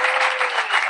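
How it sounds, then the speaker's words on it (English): Brief burst of dense crowd applause at a conference meeting, loud and continuous throughout with no speech. "Let's give a round of applause."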